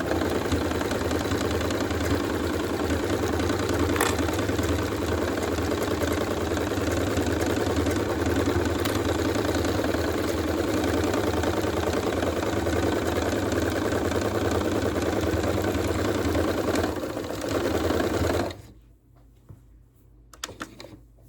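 A sewing machine stitching canvas fabric for a yard flag runs as a continuous close mechanical whir for most of the span, then stops abruptly near the end, leaving quiet.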